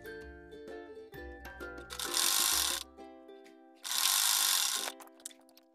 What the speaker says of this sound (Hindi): तो चलिए सिलाई दे देते हैं।